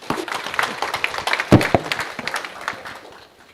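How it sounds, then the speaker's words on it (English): An audience applauds with a dense burst of clapping that peaks midway and then tapers off, with no talking over it. "Let's give him another round of applause,"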